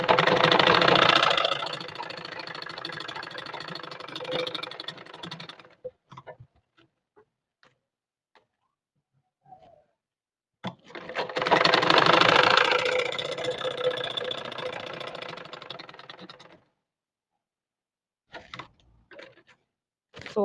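A sewing machine runs in two long continuous bursts, stitching fabric pieces for a multiple-pleat turban cap, with a quiet pause between them and a few faint clicks and handling noises afterward.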